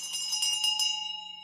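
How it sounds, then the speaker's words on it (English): A bell struck on a radio call-in show to welcome a first-time caller rings out with a bright metallic tone, several quick strikes, then a sustained, fading ring, with no talk over it. "You're gonna get the bell."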